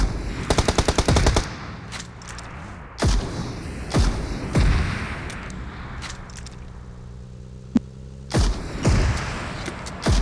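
Rapid bursts of automatic gunfire and single loud shots in PUBG payload mode, with heavy thuds and sharp cracks, some close and some more distant.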